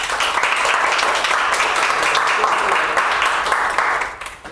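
An audience at a wellbeing and mental health forum in Tartu, Estonia, gives loud, sustained applause, many hands clapping densely and evenly before it tapers off near the end.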